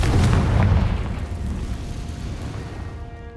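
The Confringo fire-blast spell explodes in Hogwarts Legacy as one deep, booming blast with a rumbling tail that fades over a few seconds. No voices.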